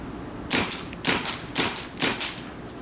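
A Planet Eclipse Geo3 paintball marker with an IV Core fires a string of airy, snappy shots, close and fairly loud, in quick irregular pairs and singles.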